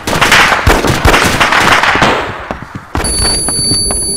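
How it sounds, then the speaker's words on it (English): A flashbang grenade going off during a SWAT raid in a video game, loud crackling bursts and pops close by, followed by a sharp bang and lingering ringing noise. "Throw in a flashbang."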